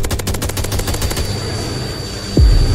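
Rapid automatic gunfire from a gun in a Plankton-themed shooting video game rattles out in a loud, even burst, then breaks off, leaving a steady hum and a low thud at the end.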